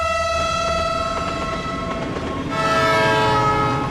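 A New York subway train rumbles close and loud under a steady, sustained horn tone, with clattering wheel noise that swells toward the end. No one speaks.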